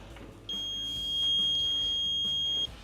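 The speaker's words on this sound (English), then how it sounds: "It will make a noise if it has continuity." A multimeter gives a steady, high-pitched continuity tone of about two seconds while it tests an oven bake element. The tone is clear and close and plays over a quiet room.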